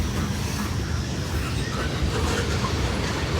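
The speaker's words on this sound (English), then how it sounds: "I think we might have another train" CSX freight train passing close by on the tracks, a loud steady rumble with rattling wheels and clickety-clack running throughout without a break.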